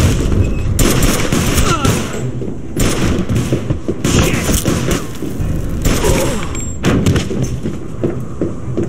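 A Mafia 2 cutscene erupts in loud, close gunshots: fast volleys of fire mixed with heavy thuds and booms, continuing in uneven bursts throughout.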